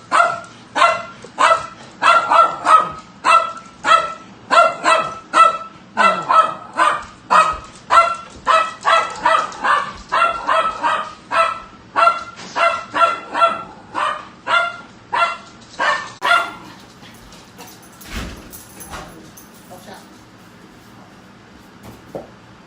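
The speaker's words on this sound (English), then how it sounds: "she barks every time the doorbell rings." A dog barks at a doorbell in a rapid, steady volley of loud, close barks for about sixteen seconds, then falls quiet, leaving only faint household rustling.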